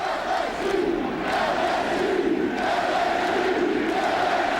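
A football stadium crowd at a 1997 Ole Miss versus LSU college game roars in a sustained, dense wall of noise, swelling in waves, loud and continuous with no talk over it.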